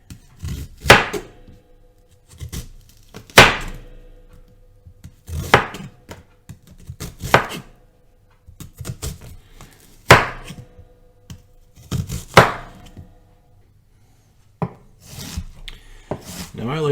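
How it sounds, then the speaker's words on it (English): Knife chopping onion on a wooden board: sharp, close chops in irregular bursts with short pauses between them, fairly loud against a quiet background, with no talking. "And then we just chop away."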